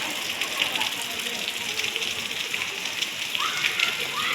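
Rain falling outdoors near a temple, a steady hiss of water with splashing and faint background voices, moderately loud and continuous throughout.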